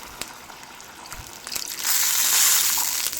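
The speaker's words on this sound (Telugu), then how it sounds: "2 గ్లాసులు నీళ్ళు వేసుకుంటున్నాను" Two glasses of water pour into a cooking pan for upma, a brief rushing gush that swells loudly after a few light knocks and clinks, then runs steadily to the end.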